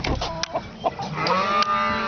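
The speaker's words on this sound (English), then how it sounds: "We have chickens. Hello, chickens." Several chickens cluck and squawk close by, overlapping calls with a few sharper cries, steady and busy throughout.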